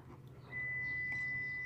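A Maruti Suzuki Ciaz smart key locks the car with a single steady electronic beep that rings continuously from about a third of the way in to the end, over a low background hum.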